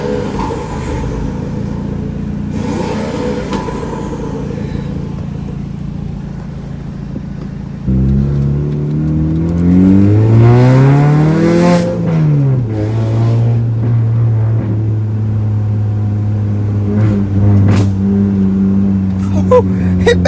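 A car engine revs hard up close, its pitch climbing and falling in a long surge over a steady idle, with a few sharp pops like backfires near the end and voices faintly underneath.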